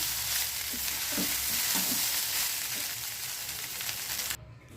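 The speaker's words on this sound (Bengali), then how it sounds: "সকালে ছেলেকে একটু ভাত ভেজে দিচ্ছি সয়াবিন আলু পেঁয়াজ দিয়ে" Rice fries in a pan with soybean, potato and onion, giving a continuous close sizzle with a few soft stirring knocks, then dropping away sharply near the end.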